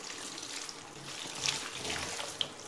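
Running tap water rinses a detachable part of an Electrolux bagless vacuum cleaner at a sink, a steady soft hiss of flowing water with faint splashes, alone and moderately quiet.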